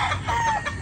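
A gamefowl rooster clucks and calls close by in a short, continuous burst, with a slightly tonal, drawn-out note in the middle.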